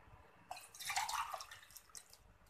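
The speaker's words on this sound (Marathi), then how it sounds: "ह्या ग्लासच्या मेजरमेंटनुसार आपण 4 ग्लास पाणी घालणार आहोत" Water is poured by the glass into a pot of chana dal, a short splashing pour that rises and trails off, moderately loud and alone.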